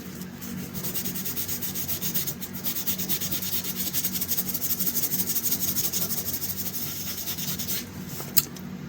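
Steady sanding with 1200 to 1500 grit sandpaper while restoring an old Craftsman or Remington piece, a continuous close rubbing hiss across the whole stretch with a small click near the end.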